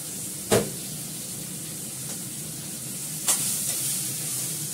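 Ginger paste sizzling in a very hot kadai on a gas stove, a steady frying hiss with a couple of sharp clinks from a spoon or pan, no talking.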